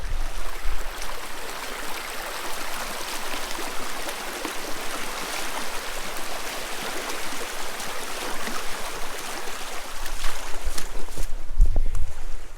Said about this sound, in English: Luckily the brook has calmed down a little bit, so hopefully I don't fall in.